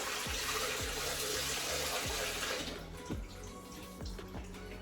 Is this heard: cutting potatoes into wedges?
no